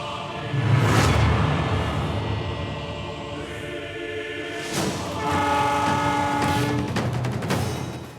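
A train horn sounds near a railway track in a dramatic film scene, with long loud horn blasts repeating over the rumble of a passing train.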